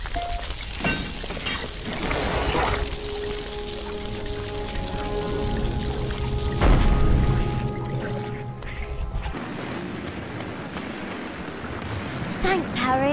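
The Incendio fire spell burns Devil's Snare in the Harry Potter and the Sorcerer's Stone video game, producing a loud, sustained whooshing roar of flame with crackling bursts, set amid game sounds and voices.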